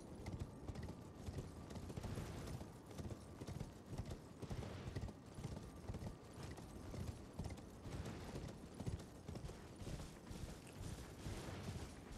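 Torrent, the spectral steed in Elden Ring, gallops at a steady pace, its hooves producing a continuous, rhythmic clip-clop that stays fairly faint under a soft wash of ambient noise.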